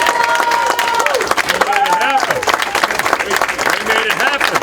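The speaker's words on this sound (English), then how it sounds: "why don't we give a big round of applause?" An audience at a political speech applauds loudly, the steady dense clapping mixed with crowd voices and a few shouts throughout.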